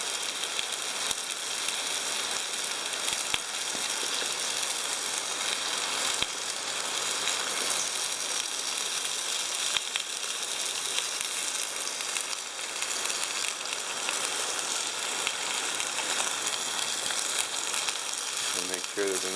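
Pot stickers (gyoza) fry in a Trangia camping pot, giving a steady, close, crackling sizzle that holds evenly throughout with tiny pops.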